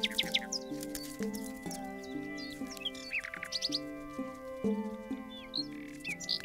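Birds flock over tidal mudflats at sunrise, giving scattered high chirps and tweets in short bursts over a steady bed of music.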